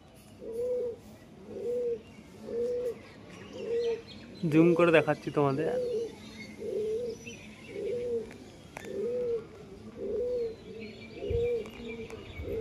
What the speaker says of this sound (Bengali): উপরে 3টে কবুতর আছে, তোমাদের দেখাই।